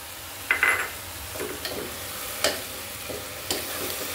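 Greens fried with garlic and green chilies in a pan, a continuous close sizzle broken by a few sharp scrapes and clinks of a stirring utensil at irregular intervals.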